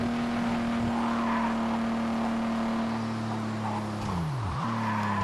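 A BMW race car in Gear Club Racing holds a steady, loud engine drone, then the pitch dips sharply as it brakes for a turn and climbs again, with a faint tire hiss underneath.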